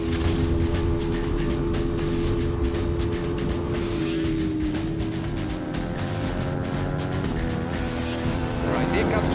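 Racing motorcycles scream along the North West 200 road course, a sustained high engine whine with shifting pitch as bikes pass, loud and continuous with crowd and ambient noise beneath.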